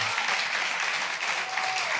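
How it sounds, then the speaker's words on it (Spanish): Church congregation applauding during a sermon, a brief dense burst of clapping from many hands filling the room, fairly close and even throughout. "Denle un aplauso al Señor."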